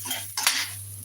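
A utensil scrapes and clinks against a bowl of couscous made with vegetable stock as seasoning is mixed in, giving a short, close, brief rattle over a steady low hum.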